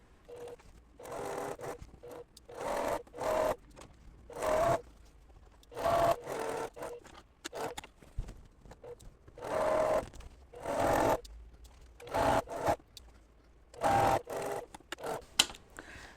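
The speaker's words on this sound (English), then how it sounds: "now we're going to sew a 1/4 inch seam" A sewing machine stitches a quarter-inch quilt seam in bursts of rapid whirring, starting and stopping about a dozen times, close and clear.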